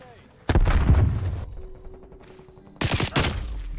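QBZ assault rifle fire in the video game Call of Duty: Cold War, with two loud sustained bursts of rapid shots separated by a quieter gap in which a faint tone hums.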